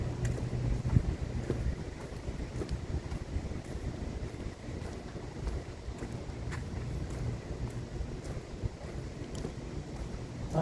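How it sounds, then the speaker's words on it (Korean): Wind blowing outdoors after rain, a steady broadband rush with gusty buffeting on the microphone, continuous throughout with no talk. "바람 불어."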